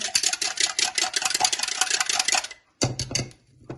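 Red strawberry tart gel mixture whisked briskly in a bowl: close, rapid, rhythmic scraping strokes that pause briefly near the end before resuming.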